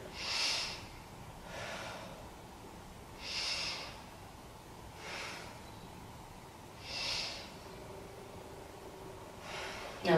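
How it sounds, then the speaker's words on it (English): Slow, deep belly breaths during a standing yoga pose, with four or five distinct airy inhales and exhales spaced a couple of seconds apart, close and soft over a quiet room. "let's take 3 breaths down to the belly"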